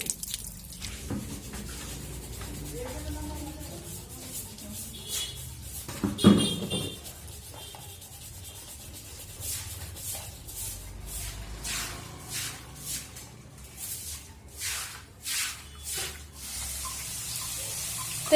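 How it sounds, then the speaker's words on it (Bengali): A dirty outdoor washing area being rinsed down with water, with splashing pours, drips and bursts of spraying water coming in uneven pulses, louder toward the end, alongside some shuffling movement. "চলো এই জায়গাটা একটু পরিষ্কার করে দিই,"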